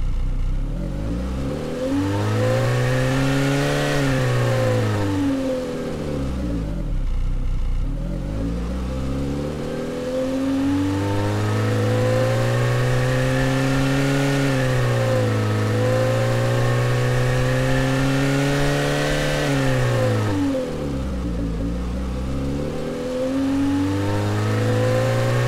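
Synthesized car engine revving from the AudioMotors V2 Pro plugin, climbing and falling through repeated smooth RPM sweeps with strong harmonic whine, loud and continuous throughout with brief dips between rises.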